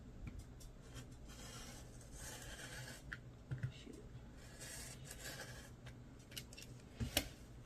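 Quiet, close snipping and rasping of sewing scissors cutting fabric along a line for a ruffle bag lining, with a few sharper cuts standing out against a soft background hiss.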